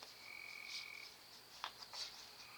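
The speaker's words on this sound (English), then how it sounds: "The frogs is loud." Frogs calling outdoors: steady high-pitched trilling with repeated loud bursts, fairly faint overall and with no voices.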